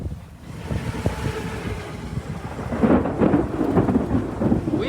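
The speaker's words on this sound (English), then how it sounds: "Let's go back to where it wasn't lightning and raining." Thunderstorm in the woods during a wild hog bow hunt, with steady rain and rolling thunder rumbling low. The roar grows louder partway through, and there is no talk.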